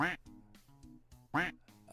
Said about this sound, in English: Exclamation point quack.